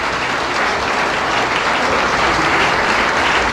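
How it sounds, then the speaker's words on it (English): Sustained applause from a large crowd honouring light rail transit engineers and workmen, an even, dense wash of clapping that holds at full strength throughout with no talking over it. "Let's clap for all of these workmen."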